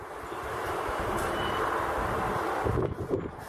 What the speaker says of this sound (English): I'm not sure if you can even hear us in this bloody wind. It's gale force, just about.